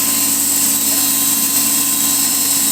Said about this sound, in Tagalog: Bali, ang makina nito ay 5 horsepower lang.